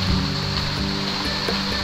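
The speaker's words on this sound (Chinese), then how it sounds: "这些水流没那么急" Gentle stream water flows beside a hiking trail through a ravine, a steady close rush and gurgle with no pauses and no voices.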